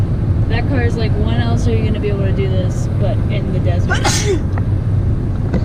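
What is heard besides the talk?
sneeze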